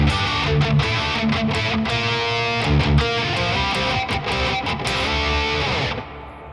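Distorted electric guitar plays the intro riff of a song, a run of driving palm-muted chugs and ringing notes with a slide up the neck, loud and alone, stopping at the end with a brief fade.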